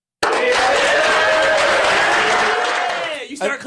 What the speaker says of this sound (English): You start clapping too there.